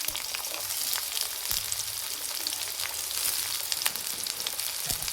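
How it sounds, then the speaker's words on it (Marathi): Onion fries in hot oil in a pan after garlic, a steady close crackling sizzle with small pops, continuous and without speech. "कांद्याला छान कढून घेते लाल वाणाचं।"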